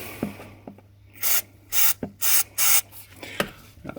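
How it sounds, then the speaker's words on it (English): Forge S421 dielectric grease from an aerosol can is sprayed into the spark plug caps of a Suzuki KingQuad ATV in several short hissing bursts, with faint handling taps and rubbing between them. "So I'm going to spray the bit of that inside each plug cap,"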